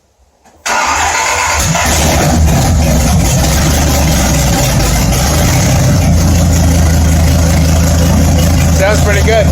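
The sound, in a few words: 1994 Dodge Viper RT/10 starting with open headers, no exhaust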